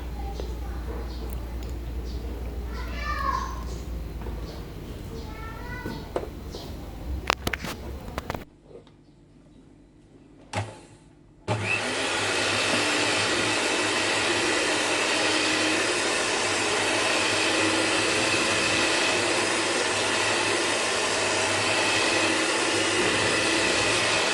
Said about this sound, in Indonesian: setelah itu baru deh kita mixer sampai mengembang